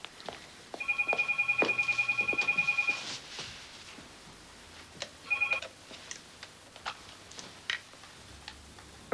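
A telephone rings in two bursts of rapid electronic trills, a long one followed by a short one after a pause, clear and fairly close, with faint room noise and no talking.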